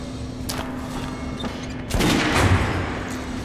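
Gunfire from soldiers in the video game Metro Last Light: scattered sharp shots, then a heavier, denser burst of firing around the middle, over a steady rumbling game background with no talk.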